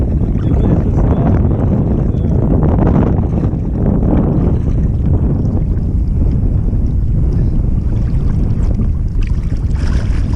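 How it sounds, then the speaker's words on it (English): Strong wind gusts buffet a kayak on the open sea near the Munxar path, a loud steady roar of wind noise across the microphone with lapping water underneath throughout. "Look, the wind has turned now."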